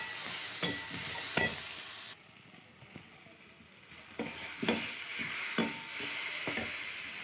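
Mashed hog plum is stirred in a frying pan for a small-fish dish, with soft sizzling and rhythmic spoon scrapes. A short quieter pause falls midway, then the steady stirring returns.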